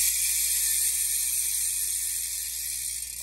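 The rear wheel of a brand-new BMX bike coasts freely, its driver ratchet ticking in a rapid, even stream of light clicks that slowly fades as the spin winds down.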